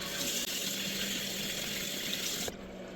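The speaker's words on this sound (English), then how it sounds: "just put some warm water on there." Warm water runs steadily from a tap onto a washcloth during a facial, a continuous close splashing hiss that drops in level near the end as the flow changes.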